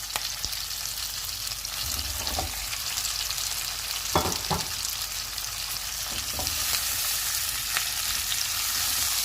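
Pieces of fried fish with onions and capsicum sizzle in a pan, a steady loud hiss with occasional clacks and scrapes of a utensil stirring.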